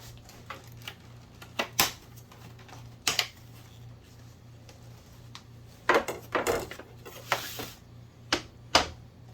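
A knife slices large strawberries on a cutting board, giving a series of sharp, irregular taps and knocks spread across the stretch with quiet gaps between them and no talk.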